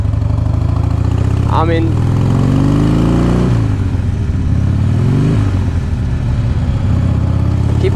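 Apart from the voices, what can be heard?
2005 Harley Davidson Heritage Softail motorcycle engine during test drive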